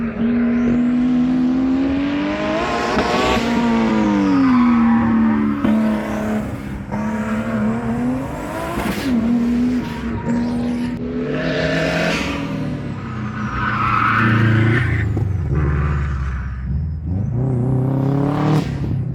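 A lightweight VW Polo time attack car with rolled rear fenders drives through a corkscrew section, its engine rising and falling through repeated revs and gear changes as it passes close by, loud and without talk.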